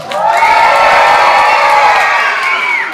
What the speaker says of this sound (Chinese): 尖叫送给他们好不好？